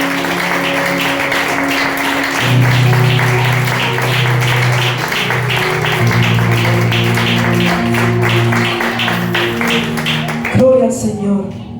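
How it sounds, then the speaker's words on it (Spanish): Congregation applauding in an evangelical church service, steady rhythmic clapping mixed with sustained organ or keyboard chords and voices, loud and continuous before cutting off near the end. "Bríndale ese aplauso fuerte a Dios."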